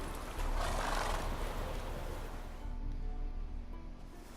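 Geralt's horse Roach from The Witcher 3 gives a close, breathy whinny that swells then fades, over a steady low outdoor rumble with faint hoof movement.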